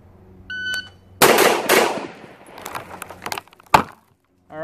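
Rifle fired on a shooting range in a Mozambique drill, two body shots then one to the head: sharp close cracks in quick succession with a later single shot, loud against a quiet background.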